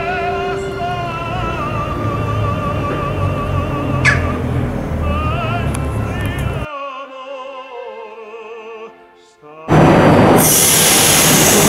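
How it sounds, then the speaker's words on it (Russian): A Milan metro train rumbles and hums loudly with squealing, sliding tones as it moves, briefly quieter midway before a roaring burst of noise returns. "Вот оно, Миланское метро."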